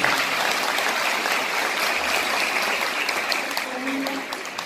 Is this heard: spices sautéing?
no